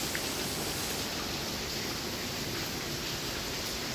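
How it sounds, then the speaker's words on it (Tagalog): Steady, dense hiss of heavy rain in Barka, Oman, pours without pause, a uniform roar with no voices. "Ang lakas ng ulan."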